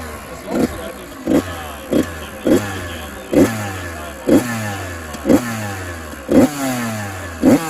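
An 85cc two-stroke dirt bike engine, freshly started on one kick, revs in eight sharp regular blips, each rising and falling back to a buzzing idle, loud and close with no talk over it.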